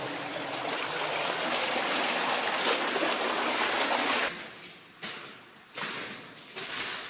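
Water drains from an old copper mine, a loud continuous rushing trickle close by that breaks into shorter, intermittent gurgling surges toward the end.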